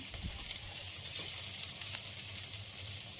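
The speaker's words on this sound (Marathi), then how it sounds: "आणि आपण जे आल्याचे काप घेतलेले हे सगळं आता आपल्याला परतून घ्यायचंय।" Chillies and ginger slices sauté in a pan with browning onion and garlic for a cashew paneer and green pea masala, giving a soft, steady sizzle close by with no talking.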